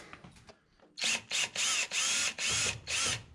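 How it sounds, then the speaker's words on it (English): Power driver with a long Phillips bit backing screws out of a combo vending machine, a series of six short, close whirring bursts with brief pauses between them, after a few light clicks. "So I'm just gonna use just a regular Phillips head long bit here and just remove these two screws here."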